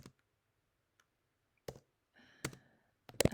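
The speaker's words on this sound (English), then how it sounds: "I'm so bad at typing." Sparse, close clicking of keys on a computer keyboard, a few isolated taps separated by silence and then a quicker cluster near the end, quiet and dry.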